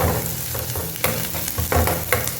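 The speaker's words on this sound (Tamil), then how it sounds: "வெங்காயம் கொஞ்சம் ப்ரௌன் ஆகட்டும் லைட்டாக" Onions sautéing in oil in a pan for Tamil Nadu-style veg puffs, a steady close sizzle with scraping stirs and a few sharper clatters, no talking.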